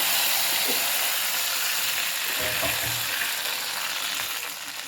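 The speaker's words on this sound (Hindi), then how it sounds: "हल्का सा तड़का लगाते हैं देसी ऑयल का, देसी घी का।" A loud, steady sizzle of a tempering in hot ghee, crackling continuously with a brief burst partway through.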